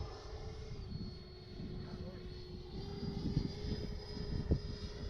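A Freewing Avanti S 80mm RC jet with its gear down flies by, a steady whining drone with a sustained tone, faint and distant, under intermittent wind buffeting and a few knocks.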